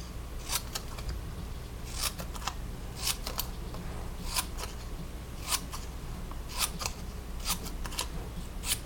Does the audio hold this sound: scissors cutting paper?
yes